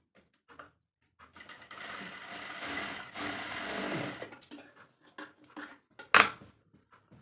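Close-up machine stitching on a blouse: one sustained whirring run of a few seconds, then scattered clicks and a sharp metallic tap near the end, with no voices.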